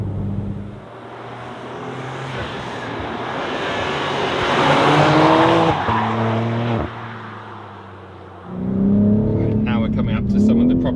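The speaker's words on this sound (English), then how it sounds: "We can enjoy the dynamics of this car on a wonderful piece of road." A BMW M3 G80 sedan driven hard along a winding road, its engine rising and falling through gear changes with tire noise, loud and close inside the cabin, with a brief lift around midway before it pulls strongly again.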